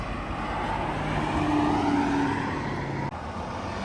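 An Aston Martin DB12 cruises past on a road during Monterey Car Week, a steady, fairly loud engine and tyre roar that swells and holds before cutting off sharply near the end, with no talk.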